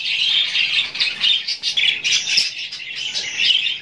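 A pet cockatiel squawks in a rapid run of shrill, harsh calls, close and fairly loud, repeating with only short breaks.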